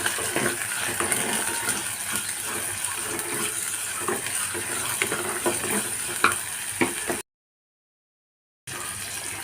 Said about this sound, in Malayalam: ചെറിയ കഷ്ണം സവോള ഇട്ട് കൊടുക്കുന്നുണ്ട് ഇതൊന്ന് വഴറ്റിയെടുക്കാം